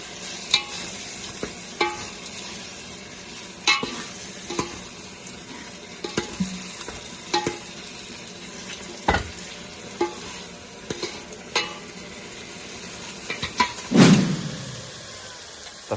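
Shrimp frying in oil in a pan: a continuous sizzle broken by regular spatula taps and stirring knocks, with a louder burst of crackling near the end.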